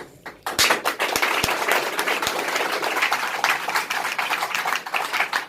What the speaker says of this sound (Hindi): अच्छा जोरदार ताली ऐसे ही बजता है